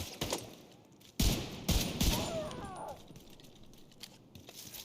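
Gunfire from the video game The Division 2, with a couple of sharp loud bursts among quieter scattered shots, followed by a fading tail of echoes and faint chirpy effects.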